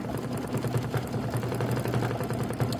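A home embroidery machine stitches out a Kimberbell Christmas quilt block with garland, giving a steady, continuous mechanical whir with fast, even needle pulses. It is close and moderately loud, and no one speaks.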